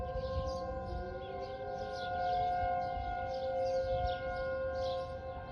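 An outdoor civil defense siren sounds a tornado warning over Rock County and Winnebago County. The steady wailing tone carries from a distance, faint but continuous, with a slight swell midway and no voices.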